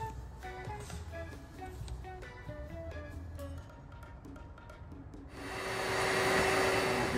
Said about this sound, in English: Vacuum out all the debris that's already inside there.